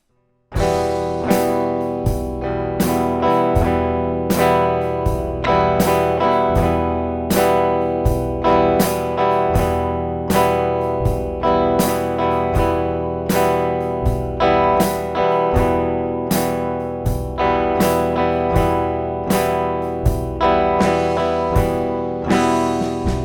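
Acoustic guitar strumming a pattern with two upstrokes and a downstroke left out, giving a steady rhythmic chug with regular gaps. Strums sound close and fairly loud and carry on alone for the whole stretch.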